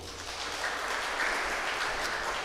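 A church congregation claps in praise during a worship service, a steady, dense wash of many hands sustained for a couple of seconds at moderate level with no break.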